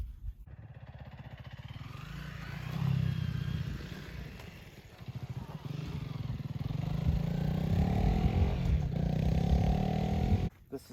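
A 2022 Honda CRF300L dual-sport motorcycle on stock tires is ridden, its engine droning steadily and rising and falling with throttle amid wind noise, cutting off near the end.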